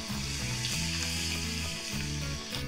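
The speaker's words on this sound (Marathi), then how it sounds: "हलकासा लसूण परतून घेऊया." Finely chopped garlic with cumin sautés in hot oil in a pan, giving a steady loud sizzle with soft crackling, close and continuous under a low background hum, no voices.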